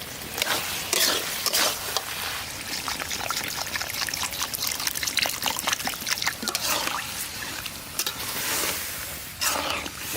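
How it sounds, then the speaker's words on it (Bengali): Water trickling and pouring into a pan of mango chicken kasundi curry, a soft steady stream with light splashes, fairly quiet, with a voice speaking softly. "এখন দিয়ে দেবো হালকা পরিমাণে জল।"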